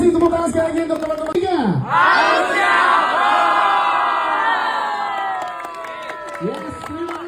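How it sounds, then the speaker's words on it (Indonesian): A crowd at a film gala premiere for the horror film Harusnya Horor cheers and claps, with loud shouted whoops and voices over a steady wash of applause that lasts the whole stretch, then fades slightly near the end. "Tepuk tangan sekali lagi untuk teman-teman."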